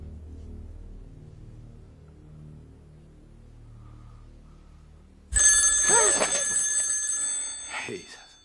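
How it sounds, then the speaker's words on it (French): A telephone rings loudly in a film scene, breaking in sharply after a quiet stretch with low background sound, with bright, sustained trilling bursts that then repeat. "Au téléphone, c'est Reddy"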